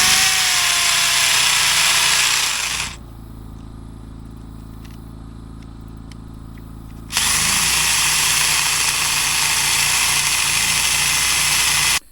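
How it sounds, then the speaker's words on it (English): A loud hammer drill bores holes for a bridge built from an old train car, roaring up close for several seconds, pausing while a lower motor idles, then grinding on again in a long sustained burst before cutting off. "We actually had to go borrow a different hammer drill because our little baby one wasn't doing the job."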